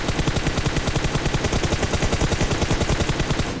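Sustained automatic gunfire from a video game hammers out a fast, even rhythm of shots, loud and close, running unbroken throughout.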